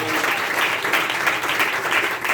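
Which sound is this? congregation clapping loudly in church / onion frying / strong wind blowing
congregation clapping loudly in church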